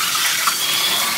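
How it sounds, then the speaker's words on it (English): Water runs steadily from a tap into a sink while a Hurom juicer part is rinsed, a close, loud continuous splashing gush with no talk. "And then rinse this on your sink."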